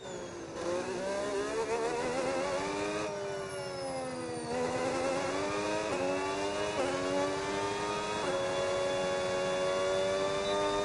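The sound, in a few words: race car engine driving in a racing video game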